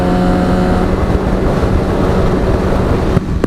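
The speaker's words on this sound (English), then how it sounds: "the extra noise from the Yoshimura, you know, you do have the sensation of this bike being really quick" A motorcycle fitted with a Yoshimura aftermarket exhaust, its engine note a loud, steady roar blended with heavy wind rush, with a brief louder burst near the end.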